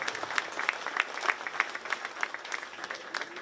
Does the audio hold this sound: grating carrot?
no